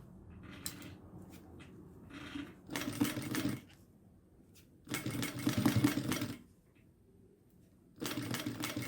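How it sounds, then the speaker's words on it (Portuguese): A sewing machine stitches around the edge of a fabric passport holder in short bursts of rapid mechanical whirring, separated by pauses filled with small handling clicks, close and clear. "meu pezinho de máquina ao redor de todo o meu porta-passaporte até chegar aqui deste lado"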